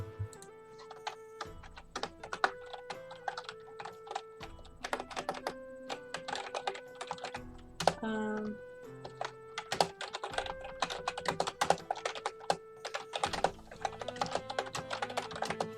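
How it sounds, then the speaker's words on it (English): Loud mechanical computer keyboard typing in fast, continuous bursts of sharp clicks, with brief pauses between flurries, close and alone. "There's some hardcore typing we've got going on. I just have a really loud keyboard"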